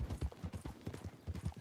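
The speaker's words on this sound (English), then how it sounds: "Oh, I stole someone's horse." Horse hooves clip-clop at a steady trotting rhythm in the Red Dead Online video game, close and fairly loud for nearly two seconds with no talk.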